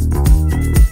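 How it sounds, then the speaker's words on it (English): A cat meows loudly and close, giving two drawn-out, rising-and-falling cries in quick succession. "Be quiet, kitty."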